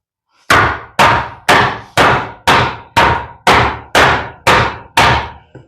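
A hammer strikes a 2x4 laid across wall framing nine times in an even, deliberate rhythm, each sharp, loud, close thud ringing briefly before the next.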